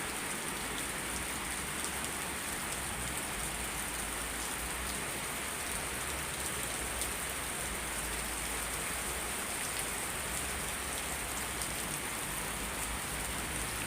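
Heavy rain pours down in a dense, unbroken roar of hissing water that stays loud and even throughout, with no talking.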